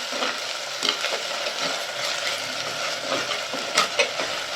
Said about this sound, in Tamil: இஞ்சி பூண்டு பேஸ்ட் அதையும் போட்டு நல்லா வதக்கிக்கலாம்